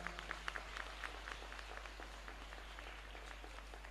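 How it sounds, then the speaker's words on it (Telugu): A church congregation at a Christian feast gathering claps together, a steady, fairly faint patter of many hands with some louder individual claps, all at a distance. "గట్టిగా చప్పట్లు కొడదామా?"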